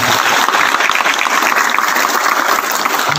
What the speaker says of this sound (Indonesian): Tepuk tangan buat tamu